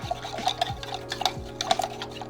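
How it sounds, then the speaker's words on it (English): Glycerin hand soap mixture stirred into a clear gel gives soft, repeated scraping and swishing strokes with faint clinks against the container, close and rhythmic, with no talking. "mix until we get a clear gel"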